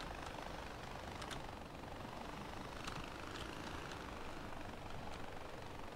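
A helicopter flies in the video game Far Cry 4, giving a steady, dense engine roar and rotor noise that stays constant and fairly distant throughout, with no speech.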